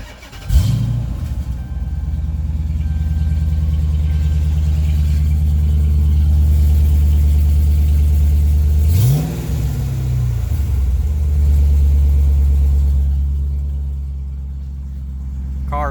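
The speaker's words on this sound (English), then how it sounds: "For those who want to know what the Hemi sounds like with" A Dodge Charger R/T with a 5.7 Hemi and hollowed catalytic converters starts, then idles loud and deep before a quick throttle blip rises and settles back into a steady rumbling idle.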